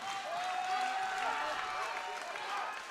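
A crowd at a world equipped powerlifting championship cheers and shouts in a steady, loud roar with rising cries, while a commentator talks over it.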